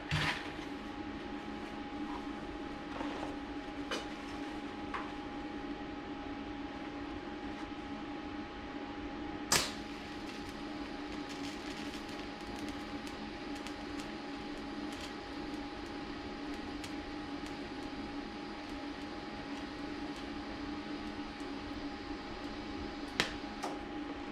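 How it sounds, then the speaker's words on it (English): TIG welding on a radiator catch can gives a steady, faint electrical hum with a constant tone and a few sharp clicks, heard alone. "Let's weld this sucker."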